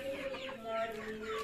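Farm chickens cluck softly in a brief, close burst of short clucks and low calls, with faint background murmur.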